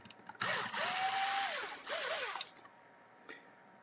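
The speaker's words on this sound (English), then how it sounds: "remove that screw for you" A power screwdriver backs a screw out of the main board of a TAO/LX7 unit, a close whirring ratchet buzz lasting about two seconds, then a few faint clicks.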